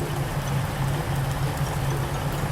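Low, steady engine rumble of an idling 2010 Mercedes-Benz Tourismo 17 RHD bus in Bus Simulator Ultimate, continuous and even, with a faint hiss layered on top.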